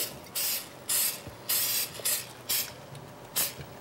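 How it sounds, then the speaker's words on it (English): Short bursts of cooking spray hiss into a pan, about six quick pumps in an uneven rhythm, close and fairly loud, with brief quiet gaps between them. "Now what we want to do is just give it a very light spray."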